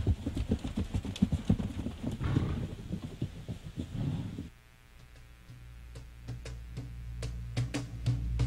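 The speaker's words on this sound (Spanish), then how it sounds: "Y apreciar el caracoleo de sus caballos de paso." Peruvian Paso horses stepping in their showy gait, hooves clip-clopping in a brisk series of sharp knocks that continue, sometimes with other sounds in the background.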